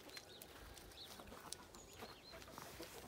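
Chickens kept at a village house cluck softly and intermittently in the yard, faint and somewhat distant against quiet outdoor background noise.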